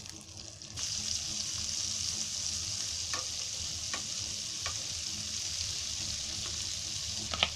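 Butter melts and sizzles in a pan on a gas stove with a steady, moderately quiet hiss. A few soft clinks are scattered through it.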